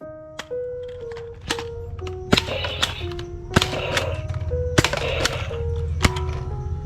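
A NERF M16 toy blaster fires a rhythmic series of about nine sharp plastic snaps with mechanical clicks between them, close and loud, with no voices.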